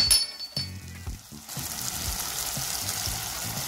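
Tomato and onion frying with masala in a pan for Tamil hotel-style egg rice, a steady close sizzle with a few utensil clinks and stirring scrapes at the start.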